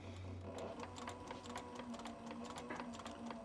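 Leather being stitched on a leather sewing machine, giving a steady, rapid mechanical whir with regular needle clatter throughout, fairly close and alone with no talking.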